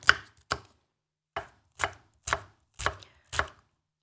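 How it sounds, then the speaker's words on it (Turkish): Seven crisp knife chops through onions hit a cutting board at an uneven, unhurried pace, close and clear with silence in between. "Şöyle yine yemeklik soğanlarımı doğrayacağım."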